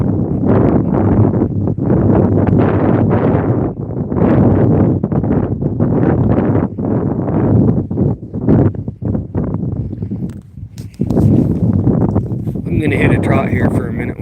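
Strong wind buffets the microphone while riding horseback out checking cattle, a loud gusting roar nearly throughout with someone talking over it and faint hoof clops.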